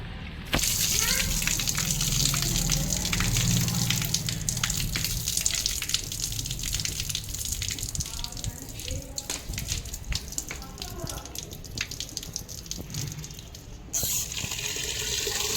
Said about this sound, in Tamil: அரிசியை நல்லா ஒரு 2 தண்ணியில் கழுவி 3 தண்ணியில் கழுவி